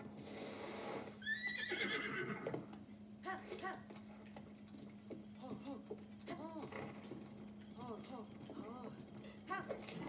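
A horse in The Legend of Zelda: Breath of the Wild whinnies loudly and shrilly near the start, then hooves clip-clop rhythmically under a low steady hum while someone talks over the game.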